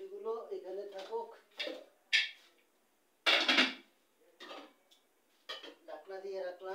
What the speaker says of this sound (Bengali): ঢাকনা দিয়ে রাখলাম